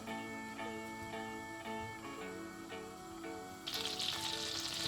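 Butter melts in a pan on low heat with a soft, steady sizzle that turns brighter and louder near the end, alone under quiet background music.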